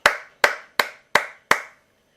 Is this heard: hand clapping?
yes